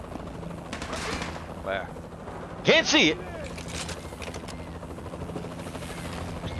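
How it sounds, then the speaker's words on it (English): Enemy helicopter in the Call of Duty Modern Warfare 2 Remastered video game, its steady rotor drone running underneath throughout, with bursts of gunfire and shouted voices over it. "that helicopter's gonna be a pain in the ass."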